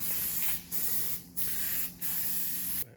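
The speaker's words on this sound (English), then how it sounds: "Copper spraying." Four bursts of copper gasket spray hissing from an aerosol can onto a V8 engine block, close up, each about half a second with short gaps between.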